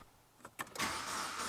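BMW E90 with a timing chain fault cranking without starting: a couple of faint clicks, then a sustained whirring churn that never catches into a running engine.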